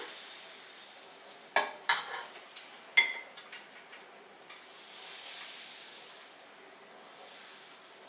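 Crepe batter spooned into a hot frying pan, a few sharp metallic spoon clinks against the pan, then a soft, steady sizzle rising quietly in the background.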